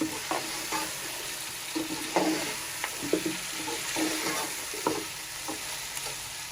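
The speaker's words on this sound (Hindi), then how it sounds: "अपने मसाले के साथ थोड़ा सा गोश्त को फ्राई कर लेंगे।" Mutton pieces frying with spices in a pot, with irregular stirring scrapes and a steady low sizzle running throughout, close and fairly quiet.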